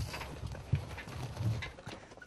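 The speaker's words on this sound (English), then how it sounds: "we've taken this horse and cart to carry us deep into the Cuban countryside." Horse and cart clip-clopping along a dirt track in the Cuban countryside: a steady run of hoof clops, close and moderately loud, with no talking.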